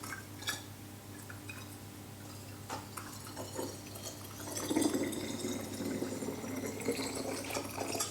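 Juice poured from a jug into sterilised glass bottles, a soft steady trickle and splash that grows fuller and louder partway through as the bottle fills, heard up close with no talking.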